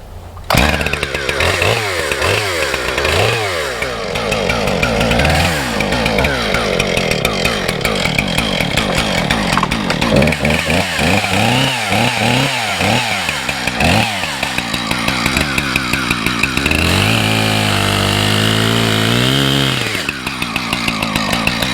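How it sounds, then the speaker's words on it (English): Chainsaws cutting through a dead log, one gas and one electric, likely a Husqvarna 460 Rancher among them, with a loud close snarling engine rising and falling in pitch through repeated bogging cuts, continuous and alone. "I'll do a back-to-back cut so you can see how these two saws compare"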